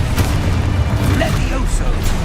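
A Confringo fire spell blasts in Hogwarts Legacy with a deep, booming rumble beneath a busy mix of game effects and voice, loud and sustained across the moment.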